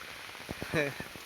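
Intermittent rain falls on a farm field where buffaloes graze and harvested beans lie drying, a steady soft wet hiss broken by a few sharp drop-like taps, with a brief voice in the middle.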